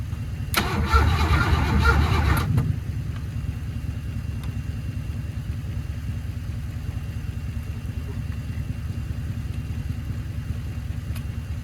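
A 1982 Mercury Capri 5.0 V8 that had sat in a junkyard cranks hard for about two seconds without catching, then a steady low electrical hum or drone carries on alone.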